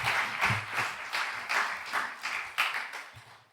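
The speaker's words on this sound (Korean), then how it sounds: "총장님 나오실 때 한 번 더 박수하겠습니다" A university chapel audience claps together in steady, moderately loud applause that swells in waves and carries on without pause as the president comes forward.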